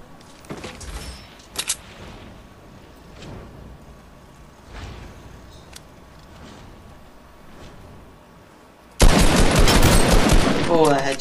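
Gunfire in the Fortnite battle royale video game: a few scattered sharp shots early on, then a loud, sustained burst of rapid fire at the end, with some talk now and then.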